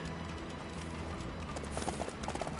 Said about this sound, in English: so we're just gonna call the horse.